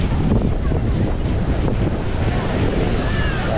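Strong ocean waves washing onto a beach, a continuous loud roar of surf mixed with wind buffeting close by, no clear breaks.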